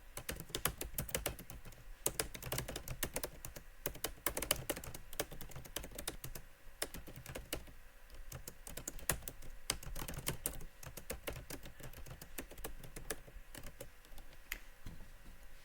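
Someone types on a computer keyboard, a rapid, continuous run of soft key clicks and taps, faint and close, with no talking.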